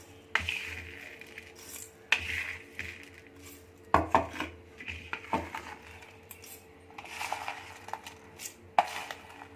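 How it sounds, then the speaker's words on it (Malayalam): Roasted garam masala spices tipped and scraped little by little into a mixer grinder jar, producing irregular metallic clinks, scrapes and taps close by, with no talk. "അപ്പോൾ ഞാനിത് കുറേശ്ശെ മിക്സിയിലേക്ക് ഞാൻ മാറ്റുകയാണ്"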